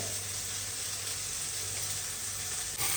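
Peas with turmeric sizzle steadily in a pan, a soft, even hiss with no voices, ending in a slight stir or shift.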